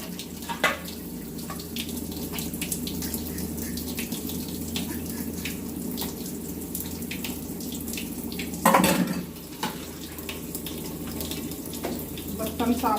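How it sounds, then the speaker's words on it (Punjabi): Dishes are washed under a running tap in a home kitchen. Water streams steadily throughout, with a brief louder clatter of dishes near the end. "ਆਪਾਂ ਲੱਗੇ ਆ ਬਰਤਨ ਸਾਫ਼ ਕਰਨ"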